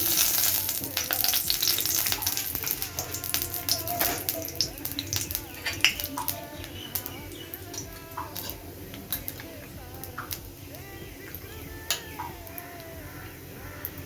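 Black cumin seeds sizzling and crackling in hot oil for a bottle gourd and green jackfruit mash: a steady, close frying hiss with scattered pops, loudest at first and easing slightly over time.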